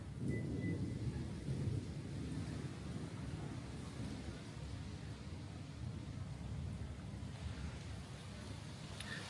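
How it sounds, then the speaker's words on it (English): Thunder from a lightning storm rolls near a house in Sydney, Australia, a steady low rumble with hiss that stays loud and continuous throughout, no voices over it. "serious lightning storms coming in"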